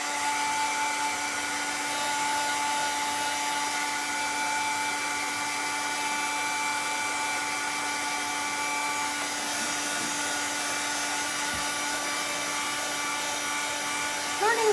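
A dryer blows steadily to dry a shirt, making a continuous, moderately loud whirring hum with a constant tone that holds unchanged throughout.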